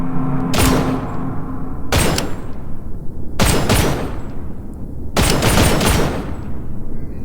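Gunfire in the survival horror video game From the Fog, with four loud bursts of rapid shots spaced about a second and a half apart over a steady background hum, and no talking.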